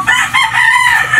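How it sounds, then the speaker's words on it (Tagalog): A Golden Boy super sweater rooster crows loudly and close by, one sustained cock-a-doodle-doo with a wavering harmonic call running through the whole moment. "Talaga magandang manok rin to mga kaibigan."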